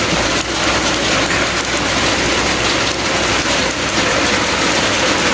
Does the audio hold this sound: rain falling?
yes